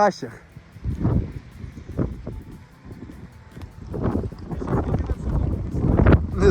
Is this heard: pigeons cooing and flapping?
no